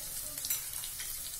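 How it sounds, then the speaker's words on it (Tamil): Chopped onions frying in a hot pan for a spicy egg and capsicum chilli, a steady close sizzle with soft stirring crackles throughout, no talk. "வெங்காயம் வதங்கட்டும்."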